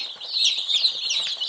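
Many young black barred rock chicks, future laying hens, peep continuously in a dense, high chorus of overlapping calls, close and steady throughout.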